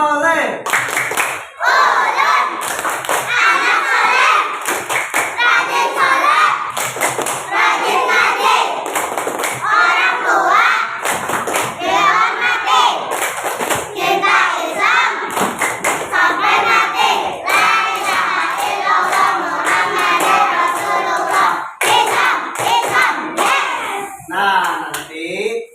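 Children in an Indonesian classroom perform the rhythmic tepuk anak soleh clapping chant, loud bursts of unison clapping alternating with shouted group chanting, continuing energetically throughout.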